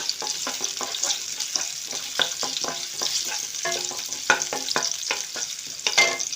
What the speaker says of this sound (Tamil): நல்லா வதக்கிட்டு இது எல்லா காய்கறியும் போட்டுக்கலாம்.